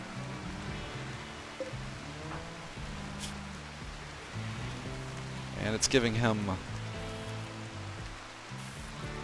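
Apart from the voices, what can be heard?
rain in a video game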